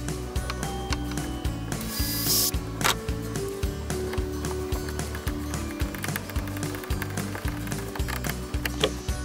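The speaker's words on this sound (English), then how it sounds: "I'm gonna drill the second pilot hole." A power drill runs steadily drilling a pilot hole for a kayak mount, with a rapid, rhythmic ratcheting clatter, loud and close, continuing for several seconds without a pause.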